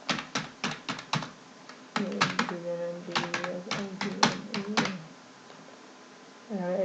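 Rapid clicks from a computer keyboard come in irregular bursts, close and crisp, with a voice speaking softly underneath partway through.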